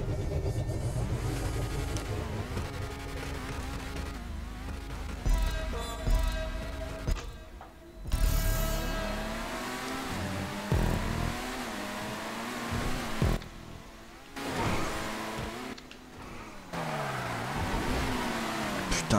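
Car engine in GTA 5 during a parkour run, revving and surging loudly through most of the stretch with shifting pitch, briefly dropping out a few times before roaring back.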